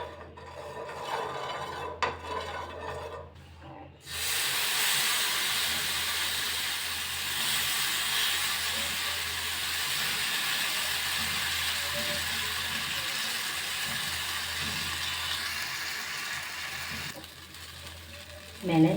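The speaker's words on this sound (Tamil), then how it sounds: "தவா நல்லா சூடாயிடுச்சு. எண்ணெய் தடவிக்கலாம்." Oil sizzles on a hot tawa used for sweet potato pancakes, a loud, steady hiss that starts abruptly after a few seconds of quieter kitchen noise and runs on unbroken nearly to the end.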